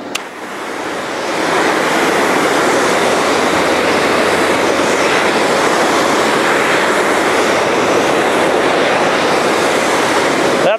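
A cold water jetter runs and sprays water outdoors, a loud, steady, close rushing hiss that swells up within the first second and holds constant until it cuts off at the end.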